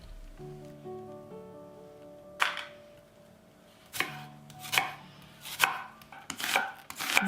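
Onion being sliced along the grain with a knife on a cutting board: sparse, crisp chops at first, quickening into closer strokes, near and clear against a quiet background.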